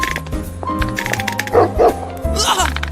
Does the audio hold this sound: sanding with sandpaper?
no